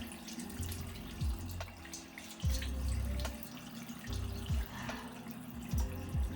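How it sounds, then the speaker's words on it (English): Water runs from a bathroom tap while someone splashes it onto their face, a close steady stream broken by repeated low splashing surges, with no talking. "wet my face real quick"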